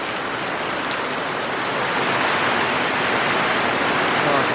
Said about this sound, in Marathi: बाप रे किती जोराचा पाऊस आलाय